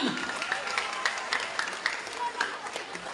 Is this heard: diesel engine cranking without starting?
no